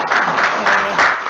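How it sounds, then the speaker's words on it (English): Audience applause after an archaeology and local history talk on drainage, a dense, fairly loud wash of clapping that swells in pulses across the brief moment. "Should we give Angus a round of applause for an excellent talk?"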